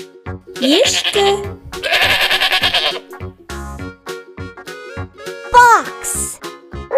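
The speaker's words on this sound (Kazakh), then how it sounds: "Goat. Ешкі." A cartoon goat bleats in several short, wavering cries, loud and close, set against a bouncy musical backing.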